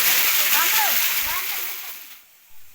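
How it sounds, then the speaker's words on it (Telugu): Water rushes and splashes at a village waterfall, a broad, steady wash of noise that fades toward the end. A few faint bird-like chirps rise above it briefly. "మా ఊరు జలపాతంకి వచ్చానండి"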